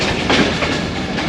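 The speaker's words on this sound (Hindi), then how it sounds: "और अब फिर ट्रेन रुकने लगी है।" A train slowing to stop at Daud station on the Narowal branch line gives a loud, steady rumbling rattle heard from on board, with faint rhythmic wheel clatter under it.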